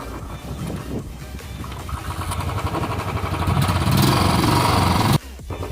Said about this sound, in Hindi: हमने किक खोल ली और सिंपली किक मार देनी है